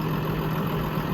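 A Case Puma 130 tractor engine idles with a steady low hum and a constant mid-range drone, unbroken and fairly near, with no talking over it.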